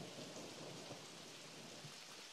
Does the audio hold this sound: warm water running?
no